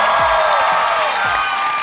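A studio audience at a Korean comedy show bursts into loud, sustained applause and cheering, a dense crowd roar that holds steady throughout, with a few voices briefly audible underneath.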